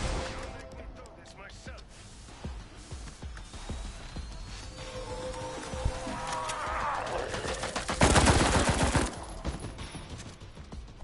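Gunfire from a shooter in Resident Evil Resistance, dense bursts of rapid shots that build to a loud close volley near the end, with talk over the top.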